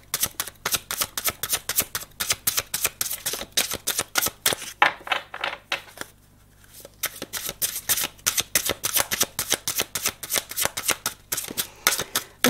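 Tarot-style cards shuffled for a card reading, a rapid run of crisp riffling flicks close to the microphone, pausing briefly midway before resuming at the same brisk pace.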